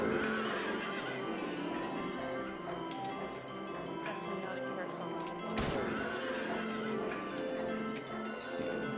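Carousel horses in the video game Silent Hill 3 neigh over a thick, continuous mechanical hum, with a heavy impact near the middle and light taps toward the end.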